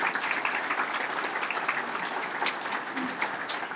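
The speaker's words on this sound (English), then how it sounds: "Let's give them all a round of applause" Audience applause at a breakfast event, dense steady clapping from a large crowd that holds even throughout, with no voices over it.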